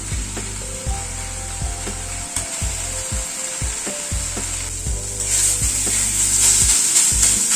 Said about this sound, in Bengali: গ্যাসের ফ্লেমটাকে বাড়িয়ে দিয়ে শাকটাকে একটুখানি ভাজা ভাজা মতো করে নেব